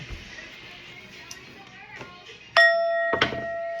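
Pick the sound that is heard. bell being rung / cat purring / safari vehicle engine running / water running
bell being rung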